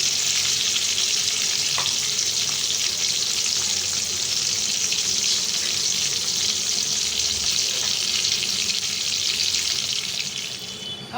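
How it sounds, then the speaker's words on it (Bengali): Jumbo prawns fry lightly in hot oil with a loud, dense, continuous sizzle that holds steady and eases off only at the very end. "আমি মাছটা ভেজে নিচ্ছি"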